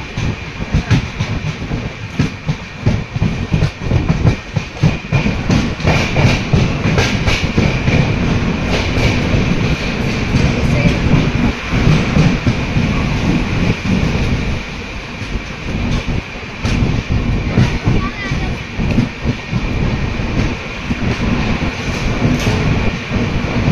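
Train running near Kuppam railway station on the Bengaluru route, a loud continuous rumble and rattle of rail cars with steady rhythmic wheel clatter and occasional squeal, no talking.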